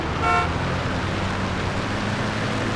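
A car in the Earth Defense Force Iron Rain video game gives a steady, dense engine rumble with road noise, and a short horn toot sounds near the start.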